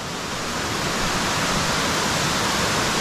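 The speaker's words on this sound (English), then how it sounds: "another river, waterfall." A waterfall along a hiking route on Mount Roraima roars as a steady, loud, broadband rush of falling water, constant and close with no voices.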